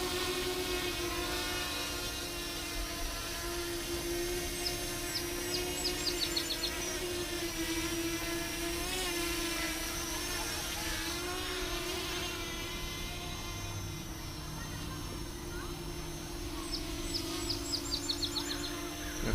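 AOSENMA CG033 GPS drone hovering and drifting in the wind outdoors, a steady high-pitched propeller whine with a constant tonal hum, close and unbroken throughout, with occasional faint chirps in the background.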